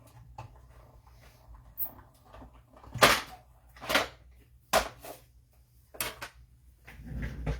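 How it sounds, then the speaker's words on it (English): Paper being cranked through a hand-turned cut and emboss machine, giving several loud, distinct clunking bursts spaced about a second apart over a faint background, with no talking. "So I'm going to run that through my cut and emboss machine."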